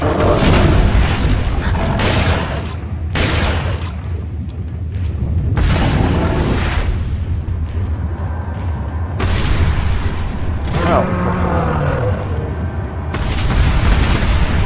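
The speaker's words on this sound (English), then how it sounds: "Let's go for the shotgun for now." Shotgun blasts in the video game Resident Evil 4, several loud booming shots spaced across the stretch over constant game background noise and music.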